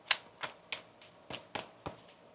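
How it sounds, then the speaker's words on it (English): Tarot cards being shuffled by hand give a series of about seven quiet, crisp riffling bursts spaced roughly evenly, close to the microphone, with no talk. "One more shuffle."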